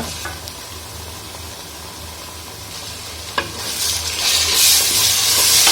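Ginger garlic paste fries with onions and dried chillies for a mutton masala curry, a close, steady sizzle under stirring, with a clack from the spoon and the frying growing louder and brighter toward the end.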